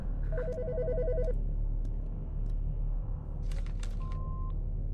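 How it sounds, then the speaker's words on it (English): A telephone rings in Autopsy Simulator, a short burst of electronic trilling ring tones over a low room rumble, followed by a single steady beep a few seconds later, with no talking. "The fucking phone."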